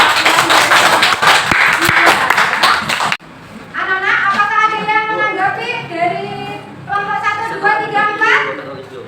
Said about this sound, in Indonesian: Tepuk tangan buat Bang Eno ya.